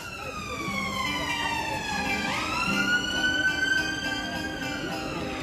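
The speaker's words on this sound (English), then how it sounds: "That's the ambulance coming for the UK." An ambulance siren wails loud and close at a street rally for Scottish independence and EU membership in Edinburgh, its pitch sliding up and down over a steady murmur of crowd noise.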